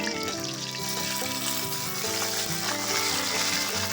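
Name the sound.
sautéing shallots and garlic in a pan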